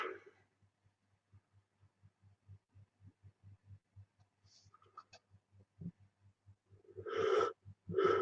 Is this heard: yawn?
yes